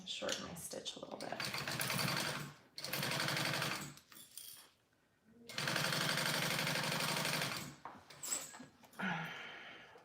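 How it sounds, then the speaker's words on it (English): A sewing machine runs in two long bursts, stitching a 1/4 inch seam on a fabric lining for a dragon sling, with a short pause and a few brief clicks between and after the runs. "we're gonna sew that at a 1/4 inch seam allowance"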